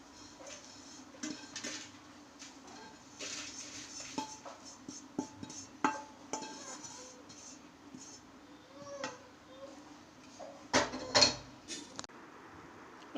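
Thick coconut ladoo mixture is scraped out of a pan onto a plate: quiet, close-up metallic clinks and scrapes of a spoon against cookware, sporadic and irregular, with brief louder knocks near the end.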